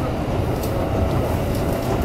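Musashino Line electric train running, a steady low rumble of cabin noise from inside the car with faint clicks, as heard by a passenger.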